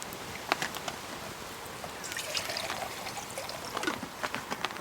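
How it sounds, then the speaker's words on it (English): Water pours into a container at an outdoor camp cooking setup, a soft continuous trickling and splashing that stays fairly faint and close. "get this filled with water"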